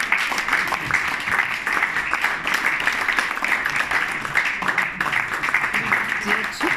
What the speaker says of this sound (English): Another round of applause for the award.